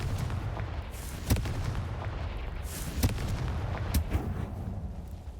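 A Confringo blasting spell fires in the video game Hogwarts Legacy, giving sharp explosive booms at irregular intervals over a steady low rumble of game ambience, with no talking.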